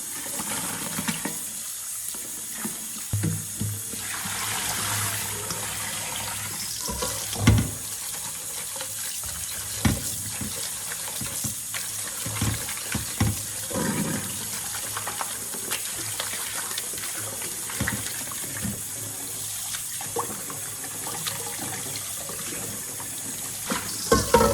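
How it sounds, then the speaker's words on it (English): Running tap water rinsing cooked Korean noodles for bibim guksu in a sink, a steady hissing stream with occasional splashes and clatters of handling, close and continuous. "Rinse thoroughly until you wash out the starch from the noodles."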